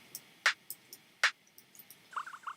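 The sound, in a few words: pitched-down slappy hi-hat sample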